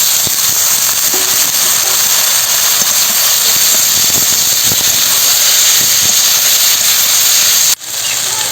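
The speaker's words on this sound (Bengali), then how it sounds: "মশলাটা কষে নিয়েছি সিদ্ধ করা এঁচড় দেবো" Boiled green jackfruit is added to sizzling fried spice paste of chilli, coriander and cumin, giving a loud, steady hiss of frying that runs unbroken until it cuts off abruptly near the end.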